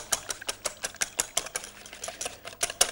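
Eggs being whisked into milk for potato pancake batter, heard as a quick, even series of light clicking strokes against a bowl, close and moderately quiet, with no voices.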